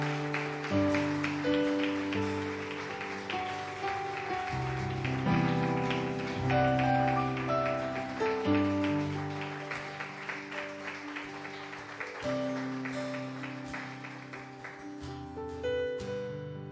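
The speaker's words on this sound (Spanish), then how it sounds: "Le damos un aplauso al Señor" A church congregation claps in a steady patter of applause lasting several seconds, with organ or keyboard chords sustained underneath and the clapping thinning out near the end.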